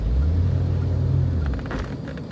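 A manual 1986 Corvette pulls away from a stop as the engine is given gas and the clutch let up, a loud low rumble steady near the car that eases off and wavers toward the end.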